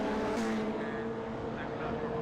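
Classic race cars, including a Ford Fiesta, racing at Knockhill circuit in Scotland, a sustained engine drone with a passing swell, under a commentator's voice.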